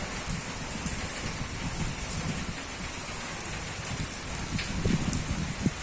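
Steady rain patters densely on surfaces, a continuous close hiss with occasional heavier drops and soft thumps near the end.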